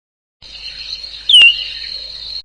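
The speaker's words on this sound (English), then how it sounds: "Killdeer." Killdeer call: a steady high-pitched trilling call holding for about two seconds, with one sharper, louder chirp partway through, heard alone and fairly close.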